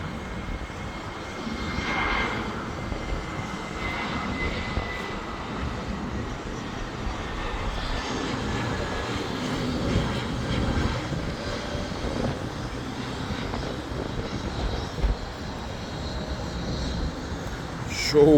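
A LATAM Airbus airliner arriving at Guarulhos airport, its jet engines a steady broad roar heard from outdoors at some distance, holding level throughout with a slight swell near the end.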